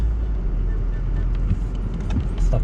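A hybrid car spins its wheels while stuck in mud on a rough road near a tunnel in Nanao, Ishikawa, the engine and tire churn a steady low rumble with faint rattles throughout.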